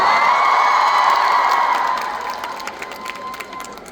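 A concert crowd at a Seoul performance cheers and screams in a loud sustained roar that fades, with scattered claps and whoops rising toward the end.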